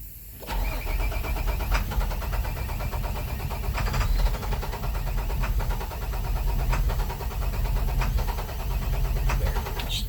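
The diesel engine of a 2006 International 4300 truck with a DT466 cranks repeatedly with a steady, loud rumble, sputtering and turning over without quite catching, sounding flooded, continuous throughout.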